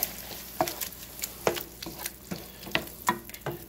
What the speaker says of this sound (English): I'm going to add our can of diced tomatoes.